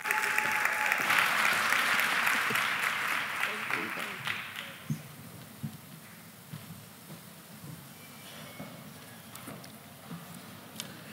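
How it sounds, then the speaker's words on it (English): Audience applause at a property-sector event as a speaker comes up on stage, a loud dense burst of clapping for about four seconds that fades into scattered claps and room murmur. "Round of applause, everyone."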